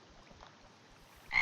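Frogs croak from a spawner in a video game, low croaks pulsing steadily and fairly quietly before a louder burst near the end.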